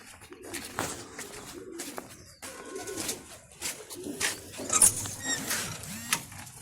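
Pigeons in a loft coo in short, repeated bursts at close range, soft and intermittent, with scattered rustles and faint handling noises between calls.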